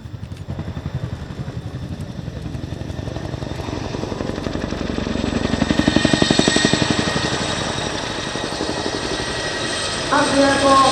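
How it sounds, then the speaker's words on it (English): A Boeing Chinook HC.6 twin-rotor helicopter maneuvers at an airshow display, its steady rotor and engine roar loud and continuous, swelling mid-flight and with added clatter near the end. "the Chinook will now move position to provide support for the troops on the ground"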